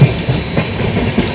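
A superfast express train, the Bikaner–Howrah service, runs on rails at around 130 km/h, a loud, steady rumble with rhythmic clickety-clack of wheels over rail joints heard from on board.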